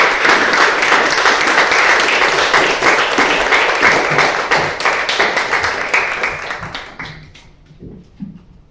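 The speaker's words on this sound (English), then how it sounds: "let's give an applause for our lovely speaker, Alozie." A crowd applauds a speaker at a private HR event, loud and close at first, then thinning out and fading to a few scattered claps and soft thuds near the end.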